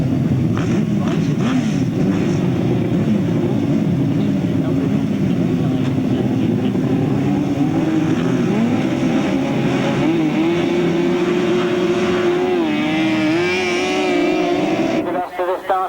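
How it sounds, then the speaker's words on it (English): 1000cc right-hand sidecar racing outfits scream around a circuit in a 1998 race, their engines droning loud and continuous and shifting in pitch as they pass, with a commentator talking over them throughout. "Rob Wilson gets the advantage going up the back straight"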